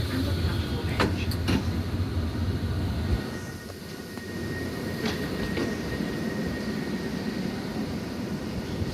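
Southeastern train standing at a platform as the service terminates, with a steady low rumble of the idling train, a few sharp clicks and a faint high whine running throughout.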